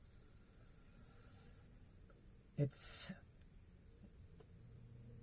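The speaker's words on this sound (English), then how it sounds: "not used to the sound of crickets" A constant high chirring of crickets runs throughout at low level, briefly interrupted by a short hiss and a quiet spoken word.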